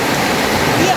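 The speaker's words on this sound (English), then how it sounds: "So like this water is flowing." Rushing river water flowing fast, a dense continuous wash of turbulent noise close by with no pauses.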